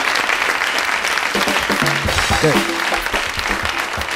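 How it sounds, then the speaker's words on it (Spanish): Dense audience applause fills a studio comedy show, steady and loud throughout, with scattered voices and a few shouts mixed in beneath the clapping. "leo este aplauso doble"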